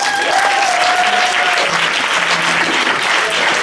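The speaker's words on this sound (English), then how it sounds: "Can we give another round of applause, please?" An audience gives a round of applause for honorees at an awards event celebrating outstanding women, dense, even clapping that holds steady and loud for several seconds, with a brief whistle or cheer near the start.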